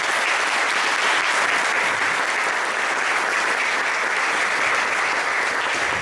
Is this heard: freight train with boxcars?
no